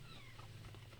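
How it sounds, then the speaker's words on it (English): A 10-week-old kitten meows faintly from outside a room, a single thin, wavering cry over a steady low hum. "if you can hear this, you may hear in the background our new kitten, Bobby McGee"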